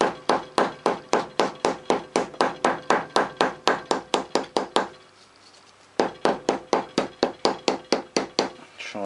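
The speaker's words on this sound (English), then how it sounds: "I'm going to put a scraper underneath and then just tap it with a hammer." A hammer tapping a steel scraper wedged under a copper head gasket on a Lister D engine, a fast regular run of sharp metallic strikes, a brief pause, then another steady burst of taps, close and loud.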